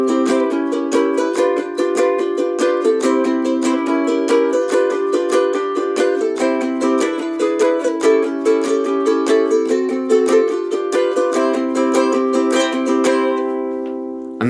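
Solo ukulele strumming a song, a fast, continuous, driving pattern of crisp chord strokes with steady rhythm, close and loud throughout with no voices.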